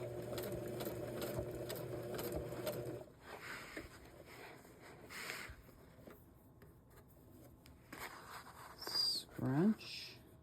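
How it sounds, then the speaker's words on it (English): A sewing machine runs steadily for about three seconds, stitching a jelly roll trivet made from pajama pants, then stops and gives way to quieter fabric handling and rustling. "Scrunch, flatten, and sew."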